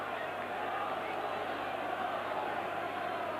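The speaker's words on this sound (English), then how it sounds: "Rovers crowd getting behind the favourites now" A Hull Kingston Rovers rugby league crowd at a trophy semi-final roars steadily as the home side attacks, a dense, continuous wash of distant cheering with no clear breaks.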